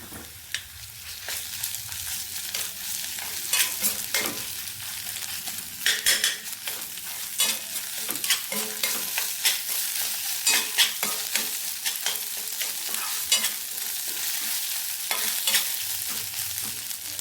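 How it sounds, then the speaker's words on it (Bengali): Ginger-garlic paste with cumin and coriander paste sizzles steadily in a pan with lightly fried onion, a continuous frying hiss broken by frequent scraping and stirring clinks of a utensil against the pan, fairly close and with no talk. "আদা রসুন বাটাটা দিয়ে দিয়েছি এবার এটাকে বেশ ভালোভাবে কষিয়ে নেব"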